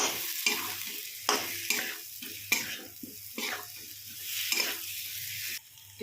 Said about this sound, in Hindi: अब जो हम आलू फ्राई करके रखे थे उनको भी ऐड कर लेंगे, चला लेंगे।